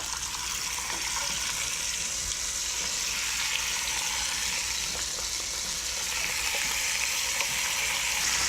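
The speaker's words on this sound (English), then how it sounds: "You hear that sizzle." Steady, loud sizzling of chicken browning in hot oil crackles continuously throughout, with occasional louder pops.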